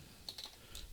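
A few quick, faint keystrokes tap on a computer keyboard while entering a command, ending in a short burst of clicks.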